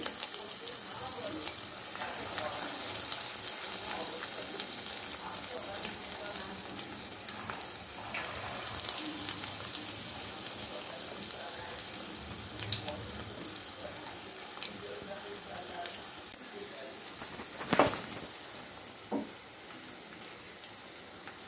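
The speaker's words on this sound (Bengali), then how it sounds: "চিকেন ভেজে নিতে হবে এবং সেটা ডিপ অয়েলেই ফ্রাই করতে হবে।" Thinly coated chicken pieces deep fry in hot oil for chili chicken, a steady bubbling sizzle throughout with a few sharper clatters, close and moderately loud.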